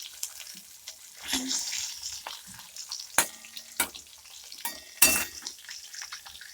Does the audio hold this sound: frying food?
yes